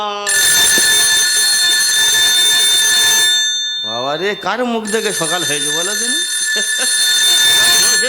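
A phone rings with a steady electronic ringtone during a staged Bengali gajon folk comedy performance. It rings loudly for about three seconds, a voice then speaks, and the ringing returns underneath it.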